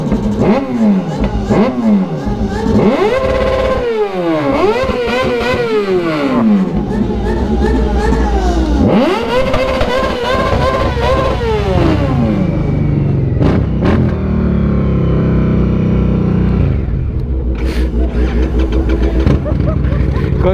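Kawasaki ZX6R motorcycle engine revving hard in repeated rising and falling bursts at night, loud and close, with people talking over it and the engine settling toward idle near the end.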